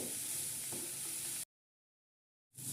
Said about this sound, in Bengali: সব কিছু দিয়ে ভালো করে নেড়ে একটু ভেজে নেব